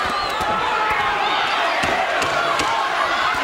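Boxing match crowd cheering and roaring in a steady, dense wash of arena noise, with sharp thuds of punches and slams cutting through at intervals.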